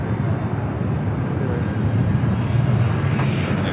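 A heavy airliner, a Virgin Atlantic jet, taking off from runway 24 left at Los Angeles International Airport, its engines a loud, continuous deep roar that holds steady from start to finish with no talk.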